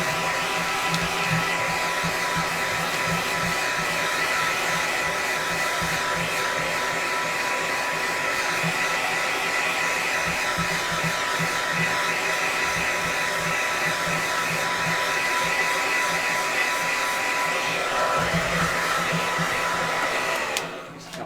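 A handheld hair dryer runs steadily on heat for about twenty seconds, a loud continuous whooshing blow used to heat-shape a cosplay piece, cutting off abruptly at the very end.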